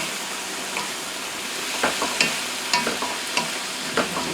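Fried rice with prawns and scallops being stir-fried in a hot pan, a steady sizzle with repeated sharp scraping clicks of the utensil against the pan, close and alone.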